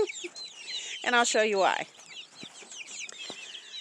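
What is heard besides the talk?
Cornish cross meat chickens clucking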